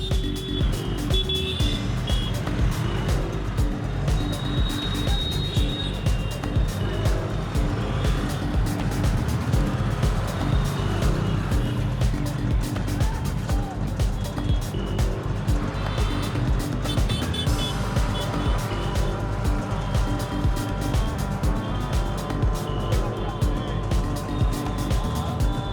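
A tuk-tuk drives along a road at night in Varanasi, its steady engine and road noise running continuously with passing traffic and scattered horn-like beeps throughout.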